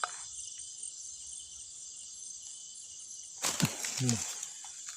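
Insects chirp in the Thai countryside, where grasshoppers are being hunted for breakfast: a continuous high, steady trill close by, broken near the end by rustling and someone speaking.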